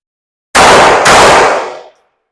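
A single loud pistol shot at defensive shooting practice, sharp and close, ringing out and decaying over about a second and a half.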